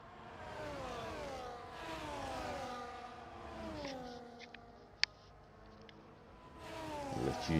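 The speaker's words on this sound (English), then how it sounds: "I'll let you enjoy the sound of the cars" Racing cars in the F1 24 video game at Imola, several engines whining and shifting pitch as they rise and fall through gears, steady and fairly loud with a brief sharp click midway and no talk.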